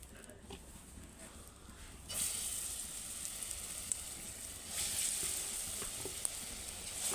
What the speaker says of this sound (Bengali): তেলটা আমার তেতে গেছে এবার আমি বড়াগুলো ওতে ছেড়ে দেবো